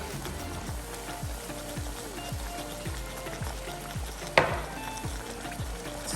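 Prawns and pineapple curry sizzle and fry steadily in a pan, with a run of regular scraping stirs and one sharp clatter near the end.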